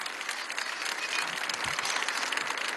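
A large audience at a televised Venezuelan government cabinet event applauds departing ministers, dense sustained clapping filling the whole stretch at moderate loudness with no talk over it.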